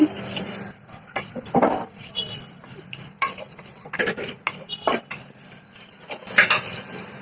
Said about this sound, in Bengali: আমি এখানে চিড়াটা ভেজে নিচ্ছি।